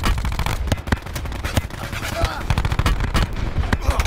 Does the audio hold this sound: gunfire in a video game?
yes